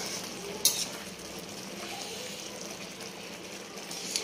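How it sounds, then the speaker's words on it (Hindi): Sevai vermicelli cooks in a large kadhai wok, giving a steady soft sizzle and bubbling hiss with one sharp clink of a utensil near the start, moderately quiet and close, with no voices. "तो ये हमारी बन रही है सेवई।"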